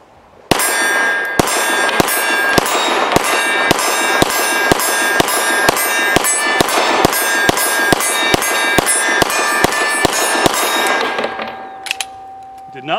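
A TP9 SFx pistol in FDE fires 115 grain Freedom Munitions ball ammo at a steel torso target about 20 yards away. Around twenty sharp shots land in a steady, rapid rhythm, each with a bright ringing clang, before the firing stops.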